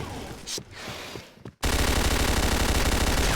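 A G36 rifle in the Point Blank video game fires in a loud, rapid automatic burst after a short stretch of quieter game noise and a few single clicks.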